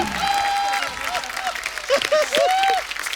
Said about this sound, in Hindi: जोरदार तालियां कपिल शर्मा के लिए।